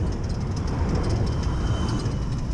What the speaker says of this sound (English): This is nice with the tram.